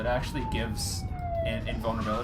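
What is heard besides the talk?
emergency vehicle sirens outside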